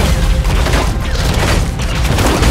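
Tristana's explosive charge bomb detonating in League of Legends, a dense, loud burst of booming and crackling blasts that fills the whole moment without letup.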